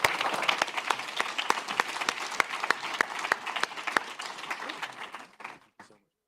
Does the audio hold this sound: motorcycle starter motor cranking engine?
no